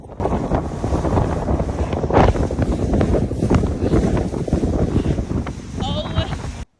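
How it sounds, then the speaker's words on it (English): Strong wind roars and buffets across the microphone during a bumpy fishing-boat run in Nebraska, loud and continuous, with thumps from the hull and faint engine noise underneath. "we had a lot of unexpected wind"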